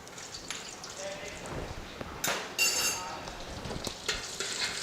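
Cumin seeds and green chilli crackle in three tablespoons of hot ghee, a steady fine sizzle with scattered sharp pops and a few louder bursts near the end.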